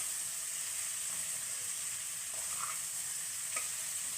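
Gooseberries and green chillies frying and being stirred in a pan, a steady soft sizzle with faint scraping touches, continuous and close, no voices.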